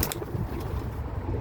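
Pet pigeons cooing softly in a loft, low throaty murmurs under steady background hiss and light wind, close by with no talking.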